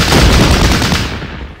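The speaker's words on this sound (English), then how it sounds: "So we try to do some suppressive fire and see if anything moves." Sustained suppressive gunfire from a Battle Academy strategy game, a dense loud rattle of overlapping shots and rumble that holds steady, then thins and fades toward the end with no voices.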